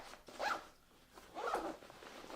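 Zipper on a Mountainsmith Explore 26L backpack compartment pocket, pulled in two short close rasping strokes separated by a brief pause, with no talk.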